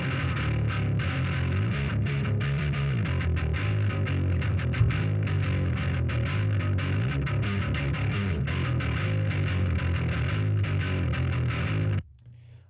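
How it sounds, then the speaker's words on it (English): Heavily distorted bass guitar through a dirty channel and Ampeg cab simulation, a thick, gritty and continuous low tone with rhythmic picking, loud and alone until it cuts off near the end. "So the main bass sounds like this."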